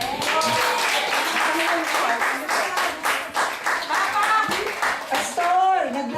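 Clapping hands at a church camp gathering, rhythmic group applause close by, with a few voices and someone speaking over it.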